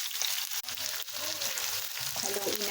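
Onions frying in a pan for meat, stirred as they toast, a steady broadband sizzle with intermittent scraping and faint background voices.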